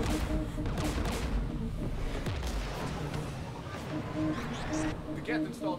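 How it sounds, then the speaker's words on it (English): Gunfire in a Mass Effect 3 battle on Rannoch: rapid bursts and heavy booms of weapons and artillery-like blasts overlapping continuously at close range, with some game voices mixed in. "Guns! We're taking fire."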